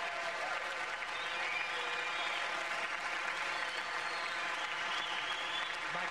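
A crowd applauds steadily and loudly at a squash match as the final match ball of a 1995 Men's British Open game is won, the clapping dense and sustained throughout with no talk over it.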